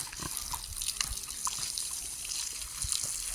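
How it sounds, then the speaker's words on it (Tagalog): Water is poured over a pregnant pig in a pen to wash it, making a steady splashing, trickling wash with some dripping, close by and continuous throughout. "Gusto ko siyang liguan para magiging malinis naman siya kahit konti."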